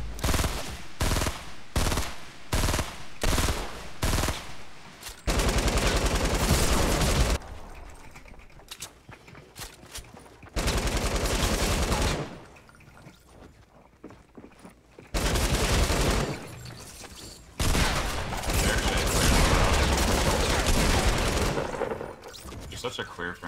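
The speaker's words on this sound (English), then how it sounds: "Hit him 4 times with the shotgun" Video game gunfire rings out in bursts: rapid loud shots early, then long heavy blasts separated by short pauses, up close and dominant, with brief voice chatter between.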